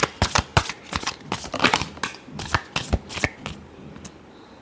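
Tarot cards are shuffled by hand close up, a rapid run of crisp riffling flutters and slaps in uneven bursts, then a few softer taps as the deck settles.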